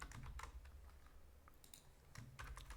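Rapid keystrokes on a computer keyboard while T-SQL code is entered, quiet, close and continuous clicking over a low background hum.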